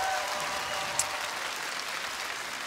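Studio audience applause for Deividas after his performance on a televised singing show, steady dense clapping from a large crowd throughout.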